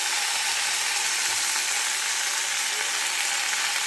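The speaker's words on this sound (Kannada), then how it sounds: "ನಾನು ಗೋಂಗೂರ ಸೊಪ್ಪನ್ನ ಇದರಲ್ಲಿ ಆ್ಯಡ್ ಮಾಡ್ತಾಯಿದ್ದೀನಿ" Gongura leaves dropped into a hot pan for an Andhra-style pachadi give a steady, dense sizzle that hisses evenly throughout, with faint stirring scrapes underneath and no voices.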